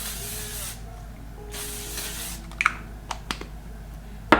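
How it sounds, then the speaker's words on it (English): A few short bursts of L'Oreal Paris Infallible makeup fixing spray hissing as a fine mist close by, followed by small clicks and taps. "I'll take my fixing spray, not setting spray, but my fixing spray"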